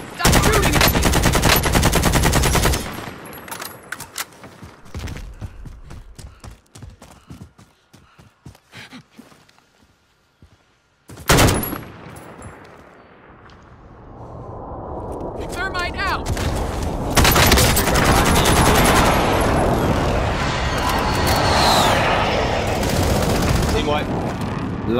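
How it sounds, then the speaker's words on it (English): Gunfire in a shooter video game during a tournament match, with loud rapid bursts at the start, scattered shots, then heavy sustained fire later, mixed with game effects and a player talking. "Stop shooting at me."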